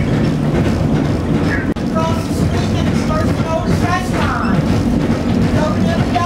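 The Memphis Riverfront Loop trolley rolls along its rails with a continuous loud rumble and rattling clatter, steady throughout, with a voice talking faintly beneath the ride noise.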